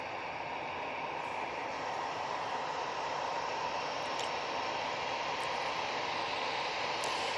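An Easyjet Airbus A320-200 takes off from Manchester Airport for Belfast, its engines a steady, broad roar that stays constant and fairly distant, with no voices over it.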